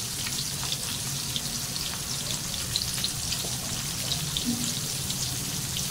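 Bitter gourd slices frying on an iron tawa make a steady, crackling sizzle that stays close, even and moderately loud throughout, with no voices.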